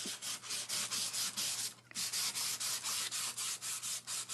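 A board is sanded by hand in steady, rhythmic back-and-forth strokes, a loud close rasping that pauses briefly in the middle.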